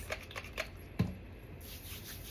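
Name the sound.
shuffling a deck of tarot cards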